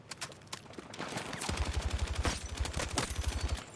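Video game gunfire: scattered single shots at first, then a sustained rapid burst of automatic fire, fairly faint, with no voices.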